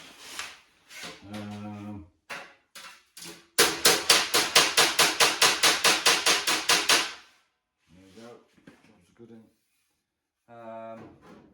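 Hammer dressing a small dent out of the steel body panel on a KE70 during custom arch work, with a few scattered taps, then a fast run of about twenty sharp, ringing metallic blows, followed by lighter sporadic taps.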